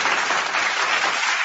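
Audience applause at a religious debate, a dense wash of clapping from a crowd, steady and loud for the whole moment with no talk over it.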